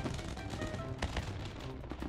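Rapid crackling bursts of firecrackers set off inside PUBG, a quick string of sharp pops over a busy game soundscape, with a couple of louder cracks standing out.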